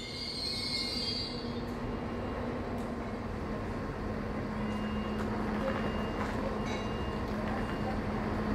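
A Stadler Flirt 3 electric multiple unit train arrives at Münster with a steady hum and rumble, a faint high squeal of wheels, sustained and fairly close throughout.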